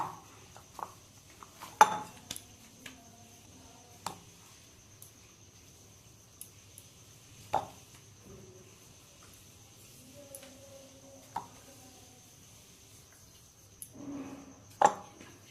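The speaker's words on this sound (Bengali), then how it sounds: "এবারে আমি পরোটার জন্য লেচিগুলো কেটে নেব" A knife cutting paratha dough balls on a board, sparse soft taps and knocks spaced irregularly over a quiet kitchen hum, close and faint.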